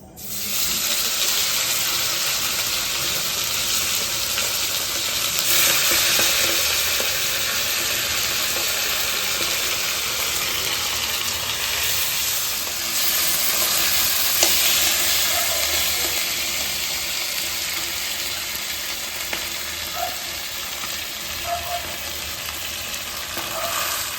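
Tilapia fish pieces fry in hot oil with whole garam masala in a wok, producing a loud, continuous hissing sizzle that holds steady throughout, with occasional faint pops and utensil taps.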